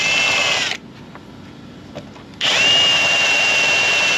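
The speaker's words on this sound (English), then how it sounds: "He's drilling holes in my boat." A power drill whines loudly while drilling holes in a boat hull, stops for under two seconds of quiet clicks, then spins up again in a steady, high-pitched drone.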